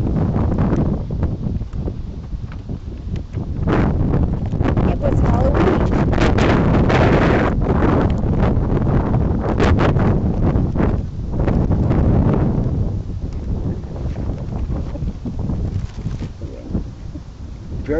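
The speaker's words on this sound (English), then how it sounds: "Very windy here." Strong wind at Promised Land State Park in the Poconos gusts hard against the microphone, loud roaring buffets rising and easing over several seconds, with a person's voice underneath.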